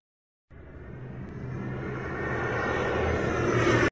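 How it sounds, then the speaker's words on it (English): An airplane's engine roar rises out of silence and swells steadily louder as the aircraft approaches, a broad rumbling drone that stops abruptly, with no voices. "Airplane,"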